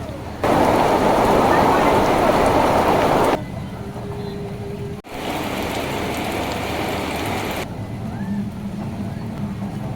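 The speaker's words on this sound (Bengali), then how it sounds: "বৃষ্টিটা হালকা কমেছে" Rain falling over green hills by a lake, a steady broadband hiss that stays loud for the first few seconds and then eases, continuing softer and fairly close throughout.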